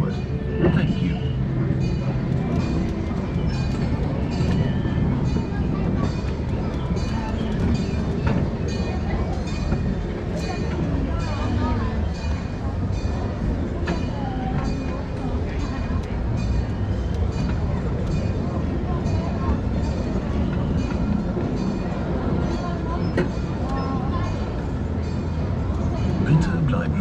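Europa-Park's Panoramabahn park train rolls along in a steady, continuous rumble with faint wheel clatter, heard from the rear of the train. Indistinct voices sit in the background throughout.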